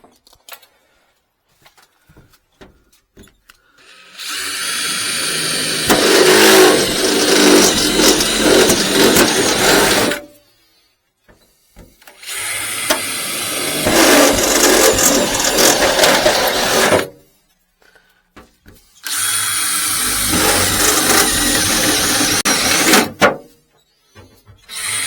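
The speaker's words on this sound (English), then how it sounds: "So I've just drilled at the four corners" Drill boring holes through the metal body panel of a Citroen Berlingo or Peugeot Partner van to fit a conversion window, heard as three sustained loud bursts of a few seconds each, separated by short pauses.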